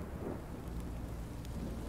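Rain and a low rumble of thunder in Minecraft Story Mode form a dense, even roar of steady loudness with no speech over it.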